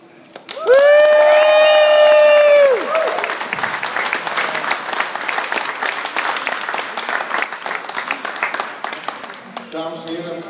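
An audience bursts into applause and cheering at a live show, loud and dense at first with a sustained sung or played tone over it, then settling into steady clapping. A voice speaks near the end.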